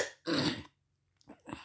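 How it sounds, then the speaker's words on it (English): A single throat clearing, a rough burst lasting about a third of a second, followed after a pause by a few softer guttural noises. Close and fairly quiet. "I'm clearing my throat"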